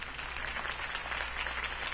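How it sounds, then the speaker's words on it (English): Sustained crowd applause from the Batman: The Telltale Series video game, a dense, steady wash of clapping that stays loud and even for two seconds with no voices over it. "My campaign's largest backer could have heard that applause."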